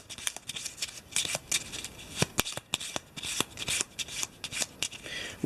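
Eldritch Horror board game cards are shuffled by hand close up, a steady run of crisp riffling and sliding snaps for several seconds with no speech.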